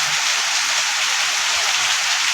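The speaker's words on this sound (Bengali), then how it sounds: "তো বৃষ্টি হচ্ছে, ব্যালকনিতে আমাদের ফুলের বাগান" Rain falls steadily on a balcony flower garden, an even, close hiss of drops pattering on leaves and surfaces with no voices over it.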